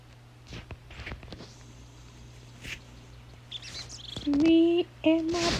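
Bird chirping in a Warrior Cats video game: a few short, bright tonal chirps come in near the end, fairly loud and close over faint ambient game sounds and soft rustling steps.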